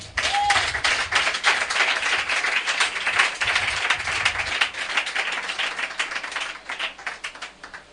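A church congregation applauding the Lord, loud sustained clapping from many hands that carries on for several seconds before gradually thinning toward the end.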